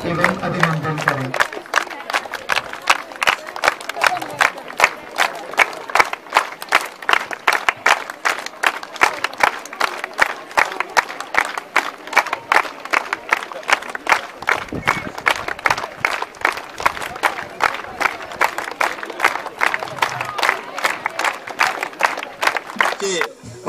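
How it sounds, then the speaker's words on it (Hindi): Audience at a kabaddi championship event applauds loudly and steadily, a dense wash of clapping sustained throughout, with a few faint voices mixed in. "अपने स्थान पर खड़े होकर जोरदार तालियों से उनका स्वागत एवं अभिनंदन करें"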